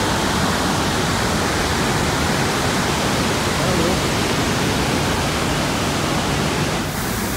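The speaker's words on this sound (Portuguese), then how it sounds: "Esse aqui é pra essa queda d'água." The Argentine side of Iguazu Falls roars as a loud, continuous broadband rush of falling water, steady and close throughout with no break.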